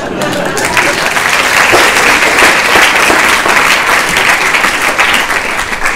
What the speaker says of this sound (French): Bien, on applaudit.